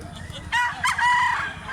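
A yellow, 10-month-old medium-sized rooster crows once outdoors at close range, its harmonic cock-a-doodle-doo rising and holding for about a second over a low background rumble.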